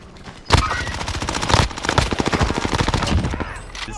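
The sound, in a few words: MP5 gunfire in Call of Duty video game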